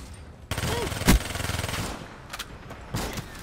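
Gunfire in Call of Duty Black Ops 3 during competitive multiplayer: a dense burst of rapid shots with one sharp louder crack near the middle and a few later bursts, loud and close.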